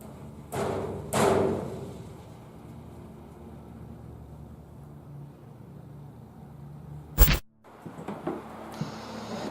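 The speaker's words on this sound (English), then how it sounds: "You can even bang on one of these beds, like this." Banging on a bed in a public library building: two dull thuds early on, then a long quiet room hum, and a single sharp, loud slam near the end, followed by faint rustling.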